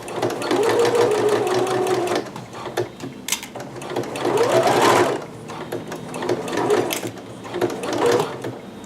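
A sewing machine stitches kimono fabric in steady rapid bursts, running continuously with brief pauses and speed changes, fairly loud and close, with no talk over it.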